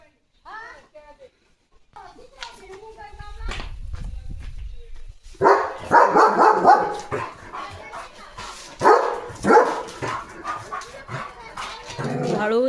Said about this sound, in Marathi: भुंकत असतं.